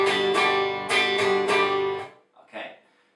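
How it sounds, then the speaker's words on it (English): Acoustic guitar strummed in stiff, choppy bursts: several loud, even chord strokes ring at full volume and then cut off abruptly at once, followed by a couple of faint, short scratches of the strings. "that is what I call the on-off switch strumming"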